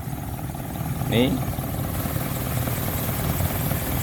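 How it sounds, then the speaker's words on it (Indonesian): A 1994 Suzuki Vitara JLX 4x4 engine idles smoothly and steadily at close range, a low even hum under someone talking, with a brief louder clunk near the start. "Untuk mesin seperti ini teman-teman, suaranya masih halus"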